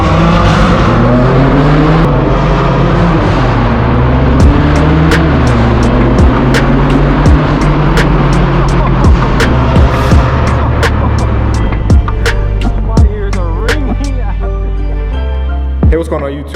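A straight-piped BMW M4 F82 exhaust droning loud and close, with rising revs and sharp pops and crackles punctuating the roar.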